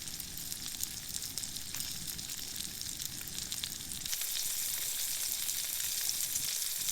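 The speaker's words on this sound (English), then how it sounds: "So while that's sizzling" Food sizzles steadily in a hot pan inside a heated tent in freezing winter weather. The crackle is close and continuous, with no talk, and grows brighter and louder about two thirds of the way through.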